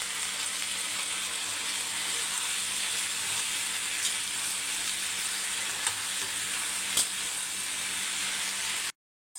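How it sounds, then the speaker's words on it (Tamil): Curry leaves and grated coconut sautéing in a pan for a sardine curry, a steady close sizzle and frying hiss running throughout with a few faint stirring clicks, no voices. "இப்போ இது வதங்கி வரட்டும்."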